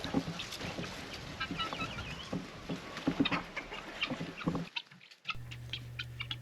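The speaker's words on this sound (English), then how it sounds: "This noisy bunch are the guineas" A noisy flock of guinea fowl on a homestead keeps up a busy chatter of rapid, scratchy calls close by, which breaks off abruptly before a low hum takes over.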